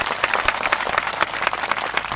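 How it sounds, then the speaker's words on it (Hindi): Church congregation applauding during a Hindi sermon, dense steady clapping from a crowd throughout, fairly loud and near. "तालियां कम बज रही"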